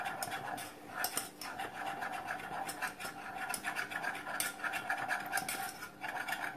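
Milk and caramel are stirred in a pan with a utensil, making a steady run of close scraping and clinking strokes. The rhythm is busy and even at moderate volume.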